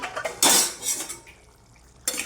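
Goat meat curry stirred in a covered pot: a few close metallic scrapes and clinks of a spoon against the pot, with a lid knock at the start and end.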